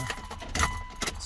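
Car keys jangle in the ignition as a car is switched to the on position, a few close metallic clinks with a faint electronic tone underneath.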